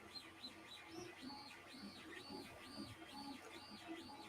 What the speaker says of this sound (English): sounds like birds chirping.